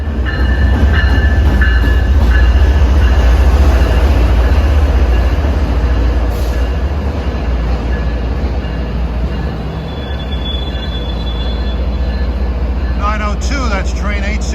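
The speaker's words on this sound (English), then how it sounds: "that's train 869 arriving, bound for Stoughton" Commuter train 869 bound for Stoughton arriving in the Boston area, a loud, close rumble of rail cars with rhythmic wheel clatter, high squealing tones and a whining pitch toward the end.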